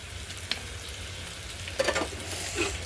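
Fish curry in the Nellore style, with salt, turmeric and curry leaves, is stirred in a pot over a wood-fired stove. A soft steady sizzle runs under a few scrapes and clinks of the spoon, and nobody speaks.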